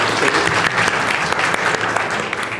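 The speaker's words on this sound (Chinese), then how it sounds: "好，掌声鼓励" A congregation at a Mandarin-language Sunday worship service claps for students. The applause is dense, steady and close, filling the room evenly from start to finish with a faint voice underneath.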